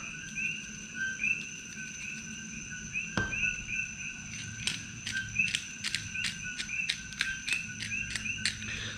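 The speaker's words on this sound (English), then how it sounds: "You'll hear these coqui frogs in the background." Coqui frogs call at night on the Big Island, steady high two-note chirps repeating in overlapping rhythm, with a quicker burst of calls late on and a single sharp knock partway through.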